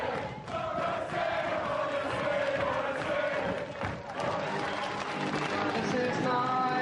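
A television studio audience cheers and claps loudly and continuously, a dense roar of voices with whoops rising over steady applause, close and filling the room.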